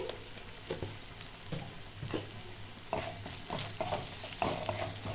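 Dried red chillies fry in oil in a pan, a soft continuous sizzle broken by repeated scraping stirs at an uneven pace, close and fairly quiet.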